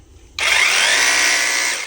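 A power drill whirs to life abruptly and runs at a steady, loud, high-pitched whine without pause, close by.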